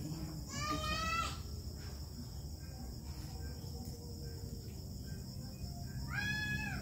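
A cat meows in two short bursts while being fed indoors, separated by steady insect-like chirping and faint background voices.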